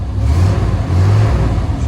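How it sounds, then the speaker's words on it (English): A 1992 Chevy Silverado K2500 with a loud custom exhaust, its engine giving a deep, close throaty roar that swells and eases across two short revs. "See if we can hear the engine roar in this thing."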